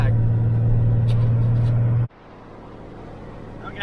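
A car cruises on a main highway with a steady low engine and road drone inside the cabin, which cuts off abruptly partway through, leaving quieter road noise.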